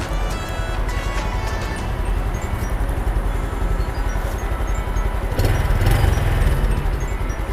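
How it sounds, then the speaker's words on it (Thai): A red 2021 Honda Super Cub motorcycle kick-started and idling: a close, steady, rapid putter of a small single-cylinder engine running smoothly throughout with no talk. "นี่ค่ะสตาร์ทเท้าก็ง่ายนะคะก็คือเครื่องติด ติดง่ายเลย"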